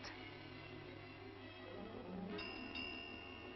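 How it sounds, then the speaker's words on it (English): A railway signal bell in a 1941 ghost-train drama rings twice, faint and thin, near the end, with a steady low hum underneath and no voices. "The signal bell."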